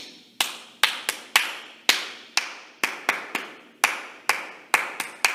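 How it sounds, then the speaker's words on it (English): Children clap along during a home story-time session while singing 'Bingo'. A quick, uneven series of sharp, close hand claps with brief pauses between groups, and no voices over them. "So that's one, two, three, four, five claps, no letters."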